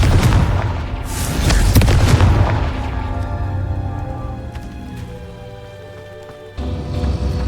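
A Confringo fire spell in Hogwarts Legacy bursts in a loud booming blast with crackling debris, the roar fading into a lower rumble before a second burst cuts in near the end.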